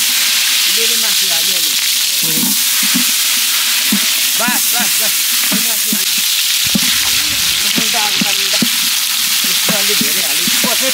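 Meat frying in a pan for a rice feeding ceremony meal, sizzling steadily while a spoon stirs and scrapes through it in repeated strokes, with background voices and clatter mixed in.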